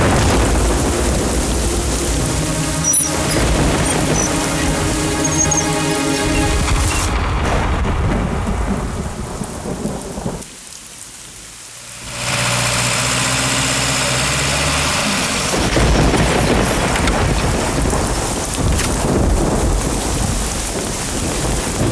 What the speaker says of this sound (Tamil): இந்த நேரத்துல மழை பெய்யணும்.